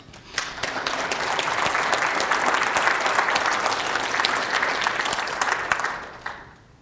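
A round of applause from an audience at a conservation organization's year-in-review event, many hands clapping together at a steady level for several seconds before tapering away.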